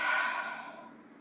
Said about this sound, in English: I'm going to take a deep breath and let it go.